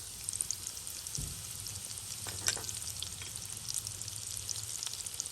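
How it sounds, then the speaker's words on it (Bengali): Chopped onion and a little garlic sizzling and frying in hot oil in a pan, a steady close crackle with a brief stir or clatter partway through, no talking. "এখন দিয়ে দিব 1 কাপ পরিমাণ পেঁয়াজ কুচি অ্যান্ড একটুখানি রসুন তেলের মধ্যে দিয়ে দিচ্ছি"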